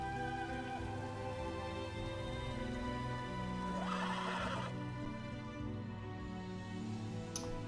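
Horses in The Elder Scrolls Online, a game set in a desert region, neigh and whinny with clip-clopping hooves over a steady bed of background music, fairly close and moderately loud.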